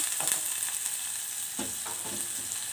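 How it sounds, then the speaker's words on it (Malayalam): Onions sautéing in a pan for a Kerala curd (moru) curry, a steady faint sizzle with occasional soft stirring scrapes and no talk. "ഓനിയൻ ആഡ് ചെയ്ത് ഇതൊന്ന് നല്ലവണ്ണം നമ്മൾ വഴറ്റി കൊടുക്കണം"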